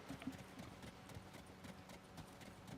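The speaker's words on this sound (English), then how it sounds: "you'll hear the footsteps on this guy" Footsteps of a Fortnite character skin: a quick, steady run of soft, regular steps over a low game ambience, faint and even throughout.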